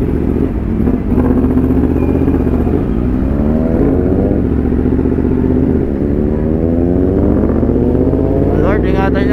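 Motorcycles and tricycles pass on a road nearby, with loud engine drone and rising, falling revs as vehicles go by, and speech over the traffic.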